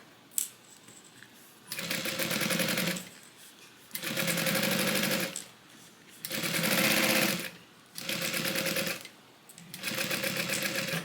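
A sewing machine stitches a divider for a handmade Soraya divider bag in five steady whirring bursts, each about a second long, separated by short quiet pauses. The machine is close and clear, with no talking.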